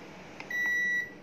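A Panasonic SR-HB106 rice cooker gives a single clear electronic beep lasting about half a second as a button is pressed, preceded by a faint click, in a quiet kitchen.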